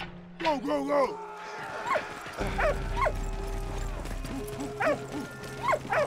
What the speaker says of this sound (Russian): Ой, собачка, смотрите, поползла.